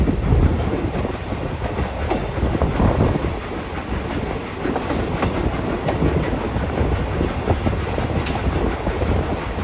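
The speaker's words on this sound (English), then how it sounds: "You can also hear her chuffing and puffing." Steam locomotive 765 rolling past on an excursion run, a loud, continuous rumble of wheels and rail noise with steady chuffing blended in, close by, with no voices.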